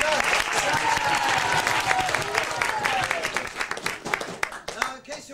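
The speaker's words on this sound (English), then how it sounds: "Another round of applause, please, for that wonderful video of Tribhuvanathan preaching in Africa" An audience at a Christmas kirtan performance applauds with dense, sustained clapping that thins out toward the end, with a voice speaking over the crowd.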